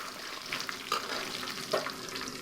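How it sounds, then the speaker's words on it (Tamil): Crushed garlic fries in hot oil with a continuous crackling sizzle, broken by a couple of brief stirring clinks, close up and with no one speaking. "தட்டி வச்ச பூண்டு போட்டுக்கலாம் அது நல்லா மொறு மொறுன்னு ஆறு வரைக்கும் எண்ணெயில் போட்டு வறுத்துக்கணும்"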